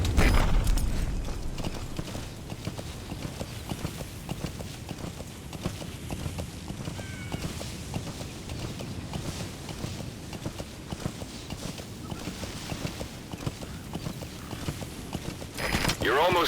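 Horse hooves clip-clop in a steady rhythmic gait throughout the video game Metal Gear Solid V: The Phantom Pain, close and clear, with a voice talking over them.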